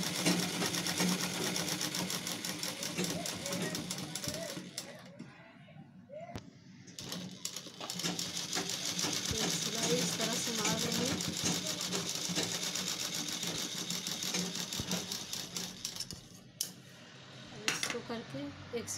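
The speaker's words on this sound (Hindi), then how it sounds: "ऐसे एक सिलाई करके एक सिलाई इधर करके" A sewing machine stitches a ladies' purse in a close, continuous rapid whirring run with a brief slowdown midway, while a voice talks faintly in the background.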